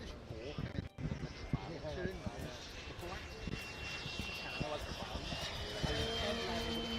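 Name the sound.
model aircraft flying at club wing show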